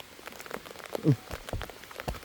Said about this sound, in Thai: ฝนตกบาดพี่น้องเลย